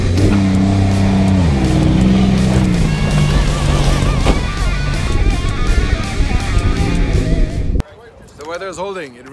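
A race car towing a tire on a rope roars and revs loudly nearby amid crowd noise and talking, then cuts off abruptly, leaving quieter voices.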